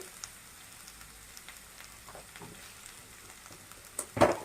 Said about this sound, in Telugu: బెండకాయలు కొంచెం వేగినాయండి.